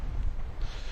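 Wind of about 16 knots buffets a microphone aboard a sailing boat, a low, steady rumbling roar with gusty fluctuations and no voices.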